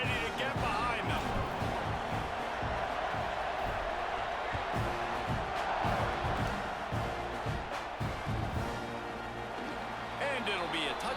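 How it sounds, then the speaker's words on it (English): Stadium crowd roaring in the college football game EA Sports College Football 26, a steady dense wash of cheering and noise throughout while an announcer talks over it. "They're set to kick it off, and this crowd now ready to get behind them."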